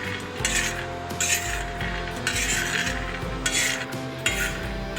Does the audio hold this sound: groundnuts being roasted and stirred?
yes